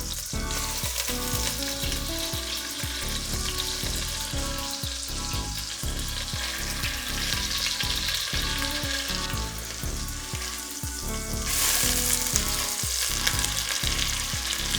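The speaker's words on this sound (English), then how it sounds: "Hear it sizzling away." Pork tenderloin for Nicaraguan lomo pinchado sears in hot oil in a pan, giving a loud, unbroken sizzle and crackle that fills the whole stretch with no talking.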